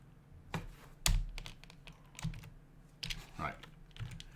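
A computer keyboard is tapped in a few scattered keystrokes, quiet and close, with a low voice talking underneath.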